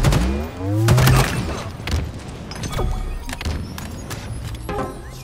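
A plasma grenade detonates in Halo Infinite during Stronghold multiplayer on Xbox Series X, heard as a few dull booming thuds amid a busy mix of game effects and cracks, with no talk over it.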